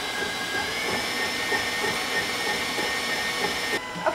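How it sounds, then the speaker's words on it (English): An electric mixer whisks egg whites with coconut, a steady close whirring drone held without a break, no voices over it. "What you're looking for is basically to whisk together the egg whites."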